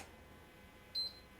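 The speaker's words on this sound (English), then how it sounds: "That is my PlayStation 4 being turned on." A PlayStation 4 console gives a single short, clean electronic beep as it powers on, brief and fairly quiet against a faint room background.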